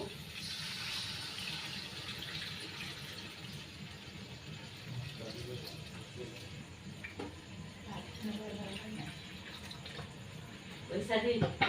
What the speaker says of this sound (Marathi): चिंचेचं पाणी ॲड करा